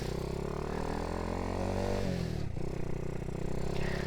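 A modified Honda C90 motorcycle with a 170cc engine running rich drones steadily while being ridden on a closed road, a loud continuous engine tone that dips in pitch briefly midway before holding again.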